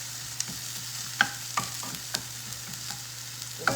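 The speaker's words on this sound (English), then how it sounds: "I have about a tablespoon of oil in the pan warmed up. So put that in first and give a little stir around." Jalapeno and onion fry in about a tablespoon of warm oil in a pan, a soft, quiet sizzle broken by scattered clicks and scrapes as a utensil stirs them.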